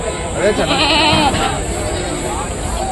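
Goats bleat at the weekly Rajarampalli angadi animal market, a few wavering calls rising over steady crowd chatter and nearby voices talking throughout.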